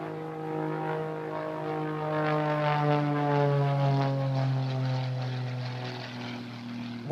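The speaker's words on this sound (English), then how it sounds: "Great noise from this propeller as he performs these maneuvers." A propeller aerobatic biplane's engine drones loudly and continuously during airshow maneuvers, its pitch sliding slowly downward as the aircraft passes overhead.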